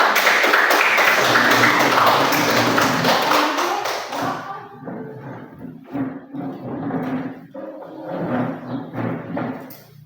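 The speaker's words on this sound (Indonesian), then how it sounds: "kita tepuk tangan dulu" A classroom of students claps hands together: a loud, dense burst of applause at first, then it thins into scattered, uneven claps and taps before fading out with a few stray claps.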